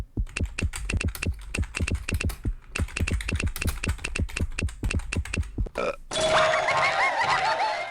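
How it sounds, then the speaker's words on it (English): Rapid computer keyboard typing in the You Don't Know Jack video game, two long bursts of steady clicking keystrokes with a short pause between, followed by a brief electronic chime and bright game sound effects. "Come on, start typing."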